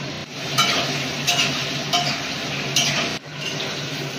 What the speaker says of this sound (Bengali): আলুটা তুলে নিচ্ছি, প্রায় ভাজা হয়ে গেছে, খুব বেশি ভাজবো না।